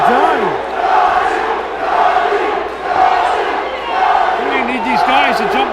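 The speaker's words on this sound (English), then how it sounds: "Crowd trying to get behind him with chants of Johnny, Johnny, Johnny" Boxing crowd at Rockin' Fights chanting "Johnny" for Johnny Hernandez, loud rhythmic swelling chants repeated over the arena din, with a ringside commentator talking over them.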